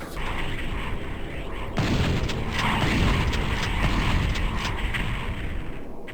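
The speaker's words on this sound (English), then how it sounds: "they shoot big, ugly, deadly fireballs." In the Doom 64 Retribution mod, a Mancubus hurls fireballs with a thick, continuous roaring rumble that swells partway through and stays loud and dense over the game's background noise.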